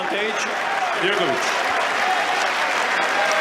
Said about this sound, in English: Suddenly the members of Novak Djokovic's support team are clapping furiously